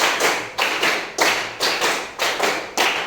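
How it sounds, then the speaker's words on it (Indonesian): Hands clap in a steady rhythm, about six sharp claps spaced roughly half a second apart, loud and close with nothing else. "Oke, tepuk tangan."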